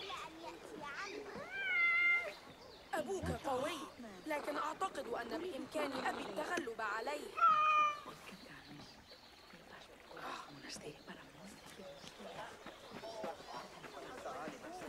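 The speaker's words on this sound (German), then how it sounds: "Katze." A cat in Assassin's Creed Mirage meows a few times, short rising cries standing out between stretches of German speech and soft ambient game sound.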